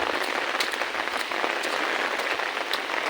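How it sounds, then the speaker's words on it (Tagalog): Heavy rain on a mountain road, a dense steady hiss of downpour with scattered sharper patters, continuous and fairly close, with no talking. "Kusog pa kayong ulan."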